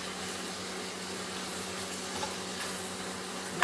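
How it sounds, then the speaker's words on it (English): Squash frying with onions and butter in a pan, giving a steady, dense sizzle that holds even throughout, close and moderately loud, with no talk. "squash cooking with the onions and the butter"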